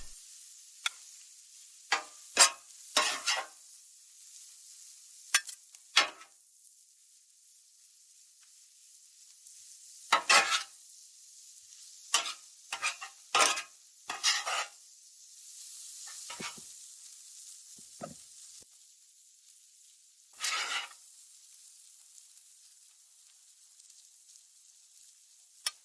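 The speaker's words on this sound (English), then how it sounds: "Give a good squirt of Okonomi Sauce. Give it a good mix." Shrimp and pork yakisoba noodles with okonomi sauce tossed in a hot pan, with intermittent scraping and stirring bursts over a quiet sizzle, some clusters of quick strokes and pauses between them.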